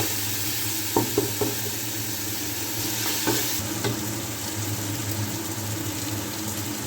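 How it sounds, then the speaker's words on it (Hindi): Chicken pieces are stir-fried in a pan, a steady close sizzle with a few soft knocks of a utensil against the pan early on; no one speaks. "आपने चिकन को तब तक इसको स्टीर फ्राई करना है जब तक ये इस तरह से गोल्डन ना हो जाए"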